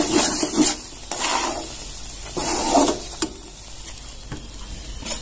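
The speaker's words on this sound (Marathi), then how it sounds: "छान असं मिश्रण एकत्र करून घ्यायचं. गॅस कमीच ठेवायचा, फुल नाही करायचा." A spoon scrapes and stirs a thick sabudana barfi mixture in a pan over low gas, with soft sizzling and repeated swishing strokes, close and steady without talk.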